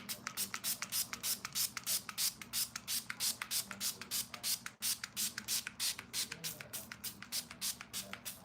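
Makeup setting spray misted in rapid repeated bursts, a steady rhythm of short hissing sprays close to the mic, with faint handling and shuffling sounds underneath.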